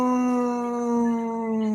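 A man imitates a howl with his voice, holding one steady, drawn-out tone close to the microphone, loud and alone without other talk.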